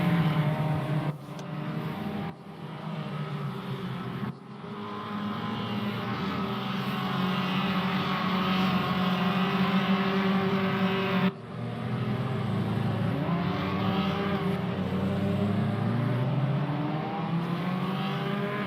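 Formula Ford race car on its final lap at Portimao, its engine droning steadily close by with pitch slowly rising and falling and a few brief dips in level.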